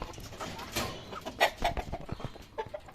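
Chickens cluck in short, irregular bursts at moderate distance, over a soft background hiss with no talking.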